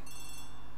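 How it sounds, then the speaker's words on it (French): Telephone ringing in a hall within the Agatha Christie ABC Murders video game, a steady electronic bell tone heard briefly and moderately quiet with no talk. "Le téléphone sonne dans le hall."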